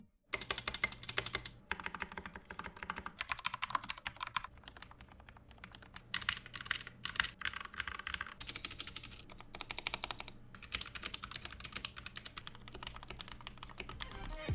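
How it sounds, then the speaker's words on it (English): Modded mechanical keyboards typing before and after dampening, rapid close clacking keystrokes in bursts separated by brief pauses, the character of the clicks shifting between segments as different boards are played. "Please take a listen to the before and after of some of these keyboards."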